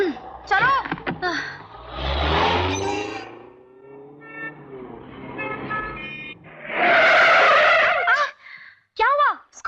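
Car braking hard and skidding to a stop on a street, with a short squeal of tyres amid loud, agitated voices talking over the scene.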